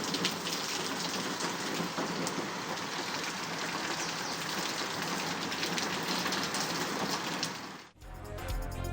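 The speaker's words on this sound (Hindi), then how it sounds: "कराची के मुख्तलिफ इलाकों में वक्फे वक्फे से हल्की और तेज बारिश का सिलसिला जारी।" Steady rain falling in Karachi, a dense continuous hiss of drops on surfaces, loud and close, cutting off abruptly near the end into a different low rumbling sound.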